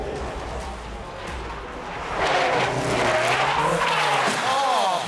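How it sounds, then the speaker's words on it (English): A race car skids in a massive crash during a Toyota Gazoo Racing Australia GR Rising Stars event, loud engine and tire noise swelling midway into a sustained screech. "Oh, massive accident for Anderson"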